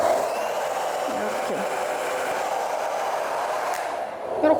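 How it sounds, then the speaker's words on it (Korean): A hair dryer blows hair during at-home styling of waves and a half-up bun, giving a loud, steady whooshing roar that runs continuously and dips only briefly near the end. "드라이기로."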